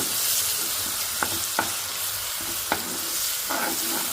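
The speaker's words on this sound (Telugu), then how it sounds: "ఫస్ట్ అయితే ఇది కొంచెం మనం వేయించుకోవాలి కొద్దిగా ఆయిల్లో" Onion fries in a little hot oil with a steady, bright sizzle. Four or five sharp clinks from a stirring spoon against the pan punctuate the hiss at irregular moments, and no one talks.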